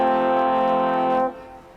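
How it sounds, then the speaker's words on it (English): A vehicle horn honks in the Carry On Rubbing PC game, a loud, steady, rich tone sustained for over a second before cutting off abruptly into quieter background. "He's honking at me."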